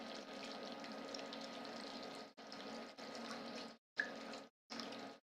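Broth pours into thickening gravy to thin it, a steady close trickle of liquid that stops and restarts in several short pours.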